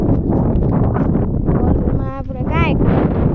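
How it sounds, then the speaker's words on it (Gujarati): Wind buffets a microphone outdoors on a farm, a loud continuous low rumble that swamps the clip, with a brief dip and a few faint chirpy tones near the end. "આપણે કાંઈક પવન જો ને એકદમ કાંઈ સંભળાવા નથી દેતું"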